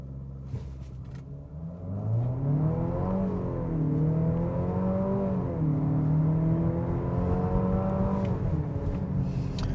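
A 2025 Nissan Murano Platinum in sport mode launches hard from a standstill, engine note climbing steadily through rising, shifting revs, close and sustained with brief dips at gear changes, no speech.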